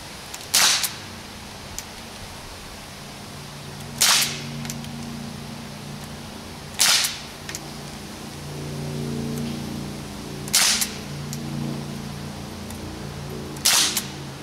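A Daisy Power Line 1200 CO2 air pistol fired in single action, five sharp cracks spaced a few seconds apart, each loud and close, over a steady low background hiss and hum.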